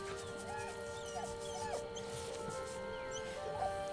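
Scratch, the dog in Baldur's Gate 3, gives soft whimpers and yips while being petted, the small cries scattered over a steady bed of in-game music.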